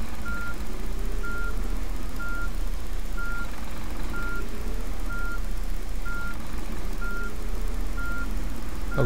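Reversing beeps from a Scania Touring HD bus in a driving video game, a steady evenly spaced series of about nine loud tones over a constant low engine drone, with no talking.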